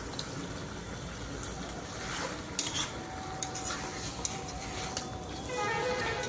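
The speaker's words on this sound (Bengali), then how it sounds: "আগে আমি কিন্তু ঢাকা দিচ্ছি না, 5 থেকে 6 মিনিটের মতো কষিয়ে তারপর ঢেকে দেব।" Country chicken pieces with the skin on are stirred uncovered in a pan, a steady close sizzle with the occasional scrape and clink of a spatula against the metal.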